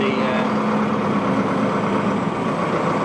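A farm tractor carting second-crop bales drives in first gear, its engine giving a steady, loud, low rumble that holds even throughout with no speech.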